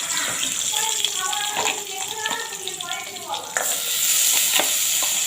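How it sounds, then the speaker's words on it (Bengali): Crab pieces fry in hot oil in a pan for a crab malai curry, a dense close sizzle with scraping stirs and utensil knocks, growing louder and hissier near the end. "এবারে এই তেলের মধ্যেই আমি কাঁকড়া মাছ ভেজে নেব"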